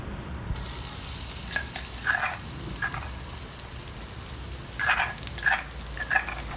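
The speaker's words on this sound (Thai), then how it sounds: "ตั้งกระทะใส่น้ำมันลงไปพอประมาณค่ะแล้วก็ติดแก๊สน้ำมันเริ่มร้อนเราใส่พริกกับกระเทียมลงไปเจียวก่อนค่ะ" Chili and garlic frying in hot oil in a pan over a gas flame, a steady low sizzle with brighter crackling bursts now and then, close up, with no talk.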